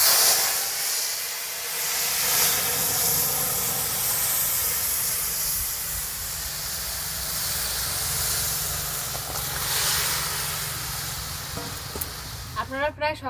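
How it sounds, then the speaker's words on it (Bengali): Whole cumin seeds hit hot oil and set off a loud, hissing sizzle that fades slowly, and a few soft clatters come near the end. "গরম তেলের মধ্যে অল্প কটা গোটা জিরে দিয়ে দিচ্ছি।"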